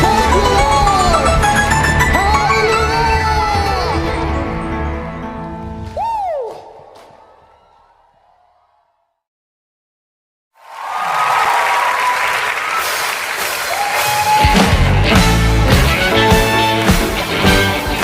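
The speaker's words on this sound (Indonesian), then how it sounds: "Sorak-soraknya buat Tuhan Yesus." Church congregation cheering and clapping at a Sunday service, a loud dense burst that fades into near silence, then swells again with applause and music-like tones toward the end.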